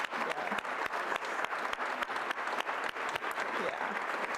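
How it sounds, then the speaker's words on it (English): A large audience at the Georgia Women of Achievement 2025 ceremony claps steadily for the honored women, a dense, even wash of applause that carries through the whole stretch without words. "y'all give those ladies a round of applause so they can hear you."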